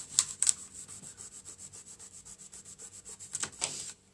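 A scraper rubs vinyl down onto a DIY welcome sign with quick back-and-forth strokes, giving a close, steady rasping scrub in even rhythmic pulses.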